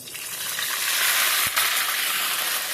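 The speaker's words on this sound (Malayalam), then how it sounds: "എണ്ണ കാഞ്ഞിട്ടുണ്ട് നമ്മൾ കറിവേപ്പില അതിലേക്ക് കൊടുക്കുകയാണ്" Curry leaves hit hot oil in a pan for Kannur-style parippu (dal) curry, giving a loud, steady broadband sizzle that holds for the whole stretch, with a brief dip and a low thump near the middle.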